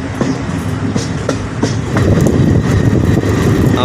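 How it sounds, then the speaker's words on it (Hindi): A Gorakhpur–Deoghar Shravani Mela Express passenger train rolls steadily along the rails with a continuous rumble and rhythmic wheel clatter, loud and close, growing a little heavier toward the end, with no talking. "सामने आप देख सकते हैं अपनी ट्रेन शानदार टनल से गुजरने वाली है"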